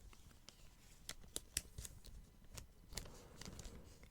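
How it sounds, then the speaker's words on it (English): Crinkly plastic wrapper from a Blu-ray disc case, handled close and quietly. Scattered sharp crackles and rustles come in uneven bursts, with a few louder snaps over a soft rustling bed, and no talking. "I thought the wrapper made a very nice crinkly sound."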